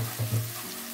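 Garlic stir-fries in hot oil in a pan for a salted mustard greens and egg dish, giving a steady close sizzle with a couple of brief louder scrapes of stirring.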